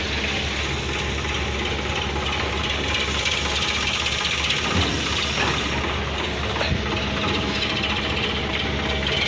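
A Mahindra tractor engine runs steadily during unloading, a loud, continuous rumble with faint mechanical clatter and no talk.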